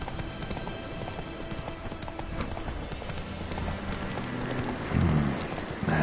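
Horse hooves gallop in The Witcher video game, a continuous rapid clip-clop of hoofbeats over a steady ambient background, moderately loud throughout.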